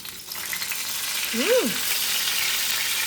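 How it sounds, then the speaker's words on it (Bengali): Eggplant frying in plenty of oil gives a steady, close, even sizzle throughout, with a brief whistling chirp rising and falling near the middle. "বেগুন ভাজতে প্রচুর তেল লাগে"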